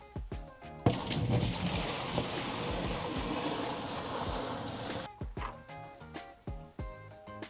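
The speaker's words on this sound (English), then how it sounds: "we're going to add 5 gallons or 6 inches of water to the brine tank" Water gushes steadily into a water softener brine tank for about four seconds, then cuts off, with soft background music before and after.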